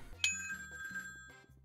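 Telephone ringing in the kitchen game Plate Up, a bright electronic ring tone repeating in short trills over a quiet background, clear and close.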